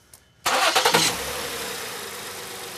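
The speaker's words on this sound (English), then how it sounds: "Now when we start the engine," A car engine cranks briefly and catches during an ignition coil diagnostic test, then settles into a steady idle, heard close and loud with no talking.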